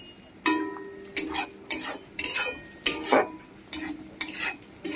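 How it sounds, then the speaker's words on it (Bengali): Chopped onion, garlic and green chili sizzle in a pan for chili paneer while a metal spatula clacks and scrapes against it in a steady rhythm, about a dozen close, sharp strokes, with no voices. "দিয়ে পেঁয়াজের সঙ্গে রসুনটাকেও ভালো করে ভেজে নিতে হবে"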